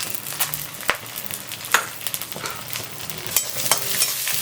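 Peanuts, cashews, dried chilli and curry leaves fry in oil over a slow flame, with a soft, steady sizzle under repeated scraping and clinking of a spoon stirring the pan, and no voices.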